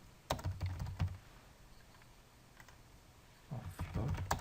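Fingers type in two short bursts on a computer keyboard, a dense run of close clicks at the start and another near the end, separated by a quiet pause.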